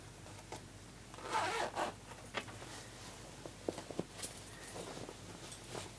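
A zipped fabric pouch is turned through to its lining side, giving a brief rough zipper rasp followed by soft fabric rustles and light handling taps, close and quiet.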